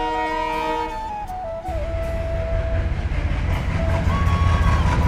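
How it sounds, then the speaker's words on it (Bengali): A train rumbles past with rolling wheel clatter, sounding a long, wavering horn blast early on, then grows louder and heavier as it draws nearer. "অনেক দূর থেকে হর্ন দিতে দিতে আসছে ট্রেনটা"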